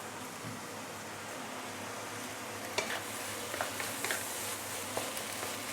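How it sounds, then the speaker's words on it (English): Light soy sauce sizzles against the hot wall of a wok holding fried rice with double sausages, a steady close hiss broken by a few sharper crackles and clinks of stirring toward the end. "you notice I actually put the light soy sauce around the wok"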